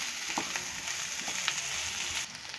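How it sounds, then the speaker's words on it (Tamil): Green chillies and capsicum sauté in a pan with a soft, steady sizzle and light scraping of stirring, fairly quiet and without voices. "மிளகாயும் நல்லா வதக்கிக்கோங்க."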